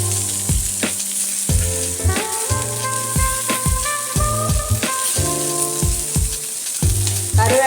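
Tomato curry leaf kebabs fry in a hot pan, a steady close sizzle running throughout, broken by repeated sharp clinks and taps of a utensil against the pan, with no voices.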